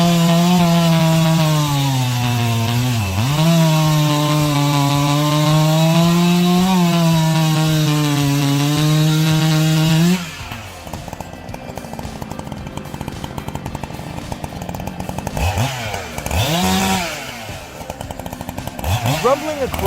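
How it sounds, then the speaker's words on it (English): A Husqvarna 120 XP chainsaw runs steadily with a loud, buzzing drone, then cuts into wood with rougher, choppy grinding and a few rising revs, outdoors with no talk. "Rumbling across the timber landscape, the Husqvarna 120 XP is a true ally in the woods as the ultimate companion of lumberjacks."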